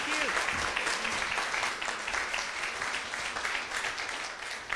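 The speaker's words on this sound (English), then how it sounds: "let's give you a great round of applause" Audience applause at a women-in-the-arts symposium after a guest speaker's talk, a dense, steady wash of many hands clapping throughout, with some voices mixed in near the start.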